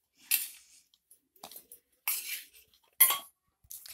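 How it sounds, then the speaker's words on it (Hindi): Chopped vegetables for chole gravy dropped into a mixer jar, giving several short sharp clinks and knocks, each separated by silence, with no speech. "ये हम मिक्सर जार में हमारी सारी काट के रखी हुई ग्रेवी के लिए सब्जियां डाल देंगे।"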